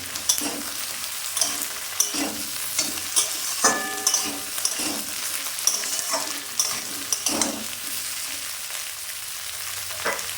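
Brinjal and parshe fish curry with potato is stirred in a pan, repeated rhythmic scraping strokes over a constant close sizzle and a few metallic clinks, no voices.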